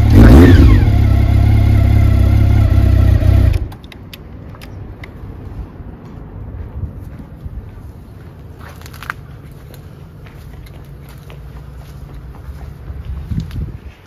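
A cold Honda CB750 motorcycle engine runs loud and rough at close range for about three and a half seconds, then cuts off, leaving quiet background with faint scattered noises.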